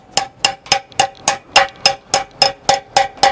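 A hammer drives a 10 mm wedge anchor bolt into concrete: a dozen sharp, evenly spaced metallic strikes, close and loud, at about three blows per second.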